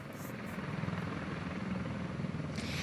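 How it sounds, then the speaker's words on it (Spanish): Helicopters, including a cargo helicopter, operate at a busy military base, a steady distant rotor rumble and engine drone filling the background without a break. "Escuchamos los helicópteros."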